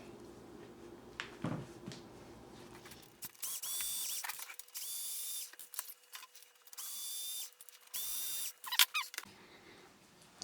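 Screws being backed out of the housing of an HP w2207h LCD monitor during repair, heard as a series of close mechanical whirring bursts from a power driver with clicks and ratcheting between them and no talk.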